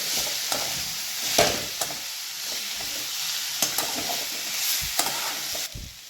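Fenugreek leaf and peanut stir-fry, Maharashtrian style, being stirred in a pan: steady soft sizzle with repeated scraping strokes of a spatula at close range, no voices.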